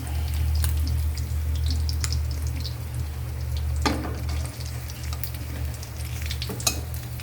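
Tilapia fries in hot oil with a steady, close crackling sizzle and occasional sharper pops over a low hum, with no voices.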